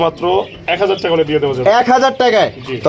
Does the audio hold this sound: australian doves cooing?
yes